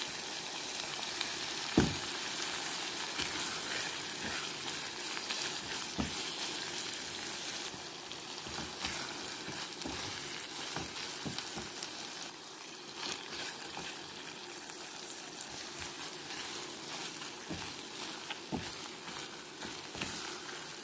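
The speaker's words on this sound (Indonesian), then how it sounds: "kita aduk dan masak terus sampai airnya mengering dan bumbunya tanak." Seasoned chicken cooks in a pan with a little added water while being stirred, giving a steady close bubbling sizzle broken by occasional clicks of the utensil against the pan.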